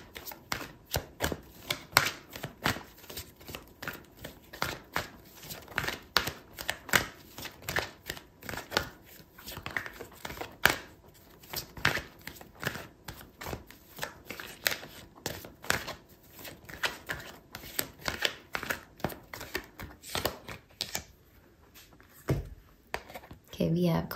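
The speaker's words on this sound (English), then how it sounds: "Okay, so I'm going to pull out another card for you." Tarot cards are shuffled and pulled from the deck in a dense, continuous run of rapid papery riffles and flicks, close up, with a brief lull near the end.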